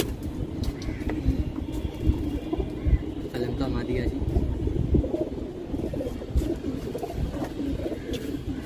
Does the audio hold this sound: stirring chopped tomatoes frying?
no